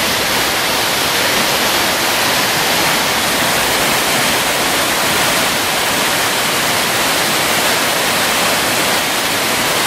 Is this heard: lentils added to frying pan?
no